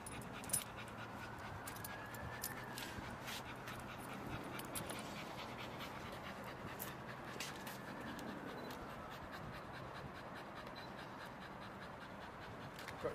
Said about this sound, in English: Got to watch this fucking dog coming.